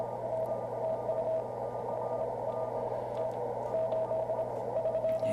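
A Morse code signal comes in over an amateur radio from an operator in southern France. A thin, steady tone beeps in short dots and dashes over a constant bed of hiss and static.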